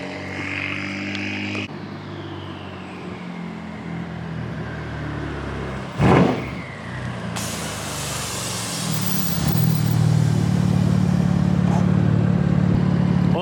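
A BMW with a turbo engine drives by on the street, a steady engine rumble swelling louder toward the end, with a short bump of noise midway and whooshing air.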